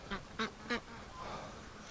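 Muscovy ducks near a farm shed in windy winter weather give three short, evenly spaced quacks, fairly faint against steady wind noise.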